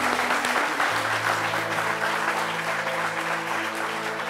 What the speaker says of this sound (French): je vais simplement demander au public ici présent et à vous qui nous regardez depuis chez vous d'applaudir